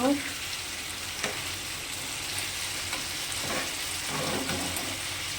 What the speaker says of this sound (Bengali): যত সময় ভাজা না হবে, নরম না হবে, সেদ্ধ হয়ে যাবে ভাজতে ভাজতে, তত সময় আমি এটা ভাজবো চিকেনটা